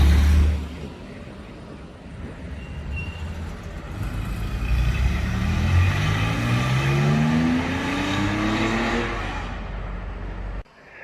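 A Porsche sports car engine revs up on a deserted Central London street, climbing through gears as it pulls away, loud at first then fading into the distance.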